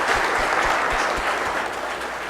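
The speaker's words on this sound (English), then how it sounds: "let's give them both a big hand of applause" Sustained audience applause at the close of a campus session on IP surveillance technology, a dense, even wash of many hands clapping for the whole stretch with no voices over it.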